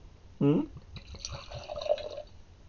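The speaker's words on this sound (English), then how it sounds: "Let's pour some rum." Rum poured into a glass, a brief gurgling splash followed by a thin trickling stream, close by, with people talking softly over it.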